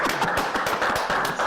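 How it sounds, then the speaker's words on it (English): A small group applauds at an office gathering, with a rapid, dense patter of hand claps that stays loud and steady throughout the short burst. "Clap it up"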